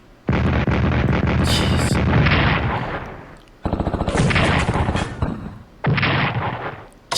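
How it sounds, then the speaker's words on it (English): Japanese artillery fire in a Pacific war strategy video game, three loud rolling booming barrages with crackling blasts, close and dominant, and a single brief voice exclamation. "here comes the Japanese artillery"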